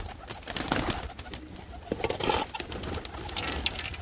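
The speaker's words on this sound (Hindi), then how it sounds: "तो बाकी ये घूम रहे हैं कबूतर सारे। सही है, दाना शाना खा रहे हैं।" Pigeons cooing softly while feeding on grain amid a busy bed of scratching and fluttering noise, with no talk; the low calls are steady but faint.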